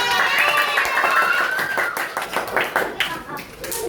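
A fourth-grade primary school class claps hands together in a quick burst of close, loud clapping, with children's voices and chatter mixed through it as the claps thin out.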